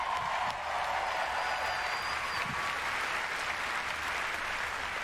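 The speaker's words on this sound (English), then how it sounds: "Another round of applause." Audience at the Bethesda E3 2019 conference applauds loudly and steadily, a dense wash of clapping and crowd noise filling the whole stretch without letting up.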